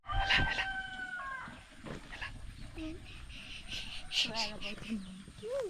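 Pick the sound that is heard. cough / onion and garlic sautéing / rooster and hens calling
rooster and hens calling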